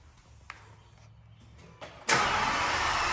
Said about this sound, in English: And Alex, you want to hit that start button?